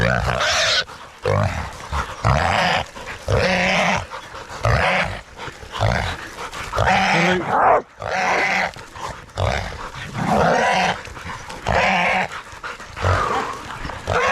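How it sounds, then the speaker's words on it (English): Hunting dogs at a pig hunting competition in Mangakino bark and growl in close, repeated bursts, a loud and nearly continuous chorus of canine aggression over roughly fourteen seconds. "Good dogs, good dogs."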